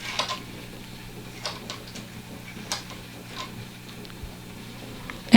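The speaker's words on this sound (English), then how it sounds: "I push all the needles back to the non-working position" Needles on an LK150 knitting machine are pushed back one after another, making light, scattered plastic-and-metal clicks and ticks at irregular intervals over a faint steady hum.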